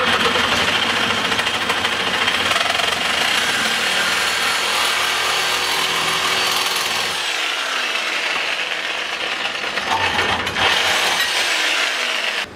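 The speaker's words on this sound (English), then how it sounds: "So I'm going to break out the Sawzall, cut it on this marked line" A Sawzall reciprocating saw cuts through a pipe marked for a kart bumper build, a loud, continuous rasping buzz close up that runs steadily before the blade slows near the end.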